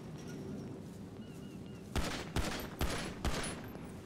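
Gunfire in the video game GTA 5: four sharp shots in an evenly spaced burst, moderately loud over a quiet background hum.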